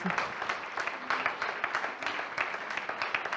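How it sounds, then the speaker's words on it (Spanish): An audience applauds at a congress, a dense, steady wash of clapping that holds for a few seconds with no voices over it. "Un fort aplaudiment, sisplau, per tots quatre."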